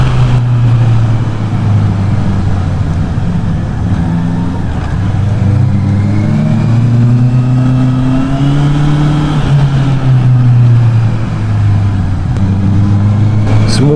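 A 2024 Honda CB650R E-clutch four-cylinder motorcycle drones loudly and steadily while riding, its engine pitch climbing and falling smoothly with the throttle through gear changes, close and continuous under heavy wind rush.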